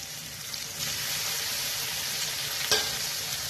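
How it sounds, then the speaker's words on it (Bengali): Mustard paste sizzles steadily in a pan while being stirred, cooked for an egg curry with mustard and poppy seed; a continuous close, bright frying hiss runs throughout, broken by one sharp utensil scrape or clink near the end, with no talking. "পোস্তটা দেবো সর্ষে বাটাটা দিয়ে দিলাম ভালো করে কষে"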